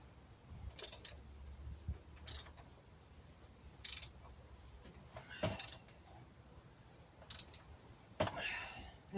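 A hand ratchet clicks in short, quiet bursts while tightening bolts on the new fork stanchions of a 1983 Yamaha motorcycle, several brief spaced rattles over a low, hushed background.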